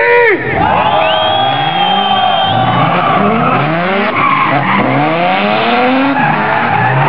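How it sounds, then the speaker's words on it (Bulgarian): A large crowd shouts and cheers loudly at a BMW club national meeting on a racetrack, mixed with screeching tire skids and roaring car engines that sweep up and down continuously. "искам цялата писта да изпухне в викове"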